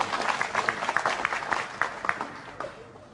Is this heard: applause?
yes